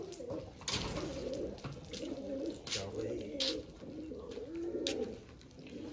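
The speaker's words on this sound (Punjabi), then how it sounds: "ਚਲੋ ਵੀ ਨਿਕਲੇ ਸਾਰੇ ਕਬੂਤਰ ਬਾਹਰ" Pigeons coo repeatedly right after being let out of a box, soft rolling coos close by with scattered wing flutters and light bird calls, a voice speaking intermittently over them.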